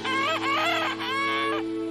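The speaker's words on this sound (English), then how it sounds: "I've got to now feed my chickens." Chickens cluck loudly and close by in a rural yard, with a couple of drawn-out, rising calls that are heard on their own.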